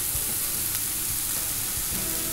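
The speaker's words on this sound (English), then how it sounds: "we are going to fry up our onions and mushrooms" Onions and mushrooms fry in oil in a pan for a vegan meatball recipe, giving a steady close sizzle with a few soft clicks and stirs throughout.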